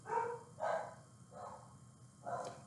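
Four separate barks from dogs some distance away repeat at a loose, uneven rhythm, moderately loud against a low background murmur, with no one speaking.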